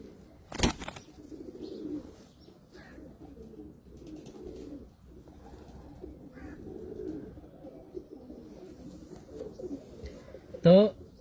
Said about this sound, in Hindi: तो ये कबूतर शक्ल तो इसकी गोल्डन जैसी है, और हर आदमी इसको देख के बोलेगा यार ये गोल्डन है।